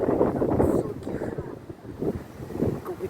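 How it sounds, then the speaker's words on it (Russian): Wind gusts buffet the microphone outdoors beside tall residential buildings and a parking lot in St. Petersburg in early autumn, a steady low rumble rising and falling throughout, with some talking mixed in. "Какой-то ветер у нас поднялся."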